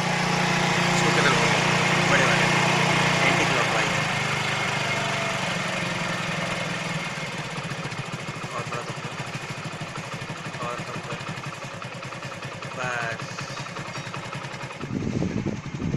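A Hero 100cc motorcycle engine idles steadily after carburetor tuning, a loud continuous low drone that eases slightly after the first few seconds, with someone talking over it throughout.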